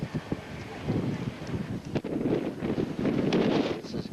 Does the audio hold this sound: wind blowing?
yes